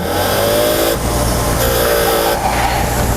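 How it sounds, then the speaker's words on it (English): A wire wheel scrubs carbon and oil deposits off a Subaru cylinder head valve, giving a loud, steady whirring grind with a couple of brief breaks in contact. "You have to take all the oil deposits off and the carbon off of them, and we do that by using a wire wheel."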